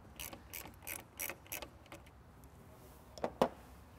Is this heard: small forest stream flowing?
no